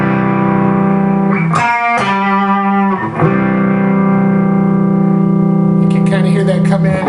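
Distorted electric guitar plays the opening riff of a song, loud sustained chords with effects and a brief string scrape midway, no voices.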